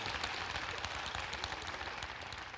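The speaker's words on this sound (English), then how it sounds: "I want to hear you clap your hands." A church congregation claps along during a sermon, a dense, diffuse wash of many hands that sounds somewhat distant and fairly soft, with no talking on top.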